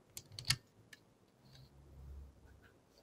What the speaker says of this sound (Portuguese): a gente vai apertar a tecla CTRL no teclado